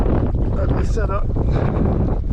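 Strong wind buffets the microphone in a steady, loud rumble while fishing for smallmouth bass on an urban water in Denver, with a voice speaking over the roar.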